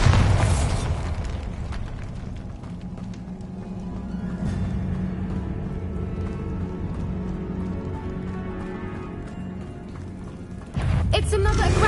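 A Bombarda spell blast in Hogwarts Legacy goes off with a loud, booming burst that rumbles on under game music, followed by a second heavy hit near the end.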